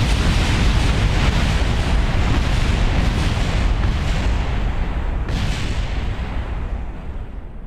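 A huge, sustained rumbling blast as a rocket with leftover liquid fuel explodes in a spacefaring video game, loud broadband roar lasting several seconds and slowly fading toward the end.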